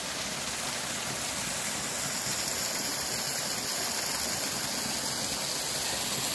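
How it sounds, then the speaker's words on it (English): Continuous rushing flow of river water, a steady broadband wash with no voices or pauses. "And this is the main river"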